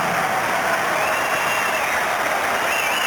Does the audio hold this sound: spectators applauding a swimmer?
yes